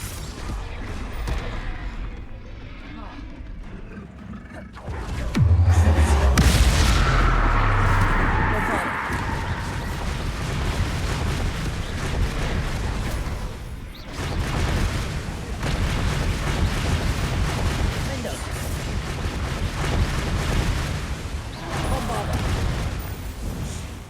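Bombarda spell blasts in Hogwarts Legacy: deep, booming explosions with rumbling debris burst out early and recur amid combat noise, with a voice talking over the action.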